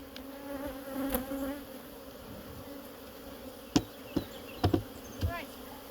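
Honey bees buzz steadily at hives being split, a low drone beneath a few sharp close knocks and clicks from hive equipment near the end.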